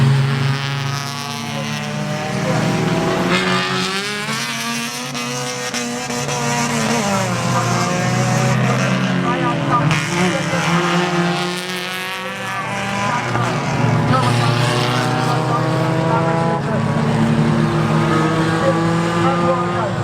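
Race cars run on a track, their loud engines sustained throughout with pitch repeatedly rising and falling as they rev and pass.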